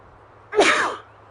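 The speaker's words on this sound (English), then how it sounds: "I'm gonna sneeze soon, guys." A single loud, close human sneeze bursts out sharply and fades within half a second, alone against a quiet background.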